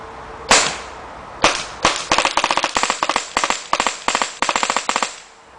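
A Tippmann A5 paintball marker modded in Steyr AUG style fires outdoors, first a few single sharp pops and then quick bursts of about three shots each, loud, close and crisp, with no talk.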